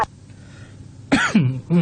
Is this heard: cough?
yes